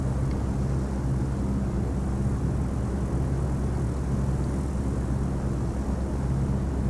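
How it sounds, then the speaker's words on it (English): Steady propeller-plane engine drone from a small training aircraft in Dovetail Flight School, flying low between Lappeenranta and Mikkeli; a continuous, even, fairly loud hum with strong low tones and no talk. "The plane's come back into life again."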